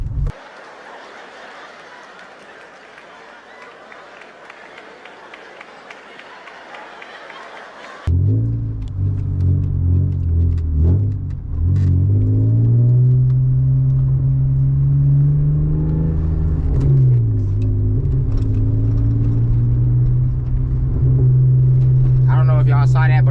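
A loud BMW E36 engine cruises uphill in second gear with a deep, steady droning rumble that rises and dips slightly, following a quieter stretch of road noise at the start.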